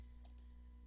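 A computer mouse clicks on a domain pricing option on a website, giving two quick, faint clicks close together against a quiet low hum.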